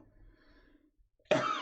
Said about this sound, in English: And it hurts so bad to even cough.